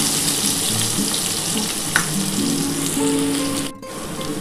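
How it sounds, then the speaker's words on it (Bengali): Potato and papaya pieces fry in a pan, giving a steady close sizzle with occasional stirring scrapes. "বন্ধুরা দেখো আমার কিন্তু আলু আর পেঁপেটা ভাজা হয়ে গেছে।"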